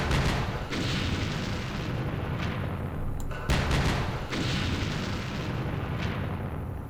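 Heavy weapons firing in the Campaign Series Vietnam war game during the Battle of Hue: two long, loud rumbling artillery barrages separated by a brief gap with sharp cracks, dense and booming, with no voices.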